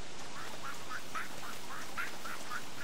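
Short quacking, duck-like bird calls from a creature in the game Don't Starve, repeating roughly every half second and fairly faint over a soft background hiss, with no talking.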